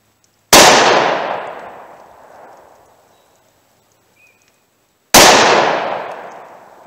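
Two loud, sharp pistol shots from a .45 Auto firing Speer Gold Dot +P ammunition at an outdoor range, spaced several seconds apart, each a hard crack followed by a long ringing echo that fades into quiet.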